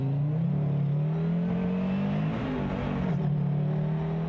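A Donkervoort D8 GTO-RS sports car under way, its engine droning steadily with a strong low tone that dips and rises slightly as the revs shift, loud and close with no talk.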